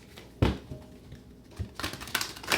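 Tarot cards being shuffled by hand: a sharp close riffle early on, then a quieter stretch and a cluster of rapid papery snaps and taps toward the end, with no talking.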